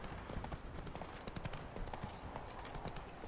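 The horse Roach trots along in the Witcher 3 video game, its hooves making a quick, steady clip-clop that sounds soft and fairly close, carrying on without a break.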